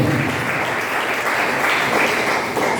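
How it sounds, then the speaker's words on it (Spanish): A church congregation at a Sunday fasting service gives the Lord loud applause, a dense, steady wash of many hands clapping together, sustained evenly from start to finish. "denle un fuerte aplauso al Señor"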